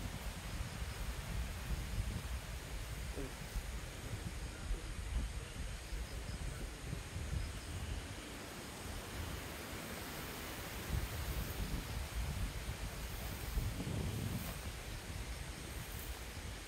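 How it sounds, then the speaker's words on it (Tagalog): Wind blows outdoors at a hometown citrus farm as a steady, moderately loud rushing gust on the microphone, with no voices. "Ang hangin."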